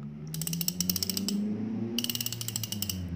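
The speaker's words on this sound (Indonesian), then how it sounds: "ada Saltiga 2020 di mana klikernya memang lebih mengesankan menurut saya" The clicker of a Daiwa Saltiga 2020 fishing reel, mounted at the front of the reel, sounds in two bursts of rapid, bright ratcheting clicks over a low mechanical whir, close and fairly loud.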